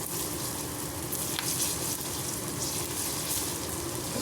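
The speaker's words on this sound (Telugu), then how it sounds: "అల్లం వెల్లుల్లి పేస్ట్ వేసుకుందామండి." Ginger garlic paste sizzles steadily in hot oil in a pan while aloo fry is being cooked, a dense continuous crackle with occasional stirring scrapes, close and without talk.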